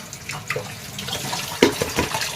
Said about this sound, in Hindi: सब्ज़ी वगैरह धो धा के रख दिया है